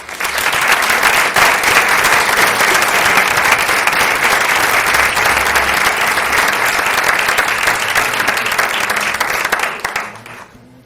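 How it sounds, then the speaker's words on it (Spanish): A Christmas proclamation audience breaks into sustained, loud welcoming applause, dense clapping filling the room for about ten seconds before tapering off at the end. "Pido un fuerte aplauso de bienvenida para ellos."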